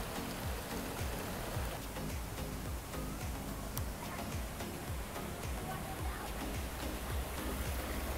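Water from a waterfall on a pirate-themed mini golf course pours steadily in a dense, constant rushing splash that stays close and fills the whole stretch without pause.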